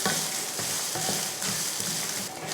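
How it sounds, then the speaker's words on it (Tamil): Garlic, shallots and grated coconut sautéing in a pan for a mutton salna, a continuous close sizzle with occasional scrapes and stirs of a utensil. "தேங்காய் துருவல் சேர்த்துட்டு இதெல்லாம் வதக்கிடலாம்"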